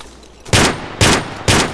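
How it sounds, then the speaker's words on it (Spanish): Enemy gunfire in an airsoft match in a forest: three sharp, loud bursts about half a second apart, each a broad crack with a short decay, standing out against quiet outdoor background. "Epa, disparo enemigo"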